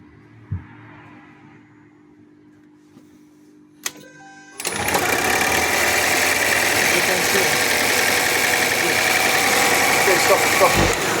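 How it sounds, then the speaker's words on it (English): A Volvo XC90 PHEV engine is cranked and then runs, after some quiet handling noises and clicks, settling into a steady loud idle with a buzzing mechanical drone close by. "run the engine."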